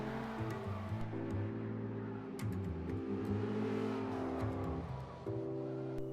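A Tesla Model S electric car accelerates at full throttle, giving a quiet, steady motor whine with tonal layers that hold and shift rather than an engine roar, and no talking over it.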